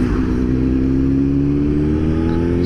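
A Suzuki GSX-S 750 motorcycle fitted with a Power Commander 5 custom tune accelerates in second gear. Its engine gives a loud, steady, close-up drone with no pause.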